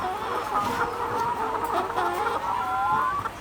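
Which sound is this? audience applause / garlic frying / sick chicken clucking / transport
sick chicken clucking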